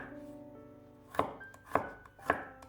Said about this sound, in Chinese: 几瓣去皮的大蒜切成蒜片，